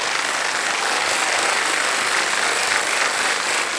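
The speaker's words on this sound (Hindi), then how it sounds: "तालियां बज जाए" Studio audience applause on a televised quiz show greets a contestant, a steady wash of dense clapping heard alone and fairly loud throughout the short stretch.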